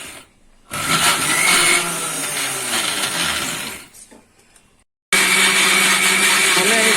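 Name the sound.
electric mixer whipping coffee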